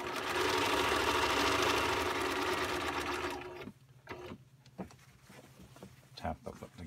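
A home sewing machine stitches in one loud continuous run for about three seconds, then halts, followed by scattered clicks, handling sounds and a low hum.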